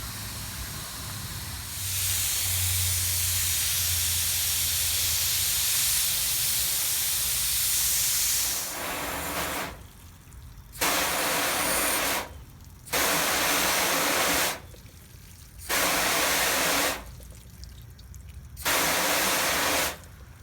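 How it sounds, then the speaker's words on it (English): Garden hose spraying water onto a car's ceramic-coated paint, a steady broadband hiss on the fine mist setting, then switched to shower, coming in several separate bursts with short pauses between them. "On the mist setting first, and then we'll switch over to shower"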